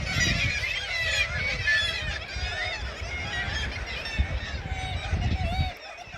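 A dense chorus of gulls perched at a Tyne and Wear Metro spot calling continuously, many overlapping cries at once, loud and close throughout with a low rumbling background.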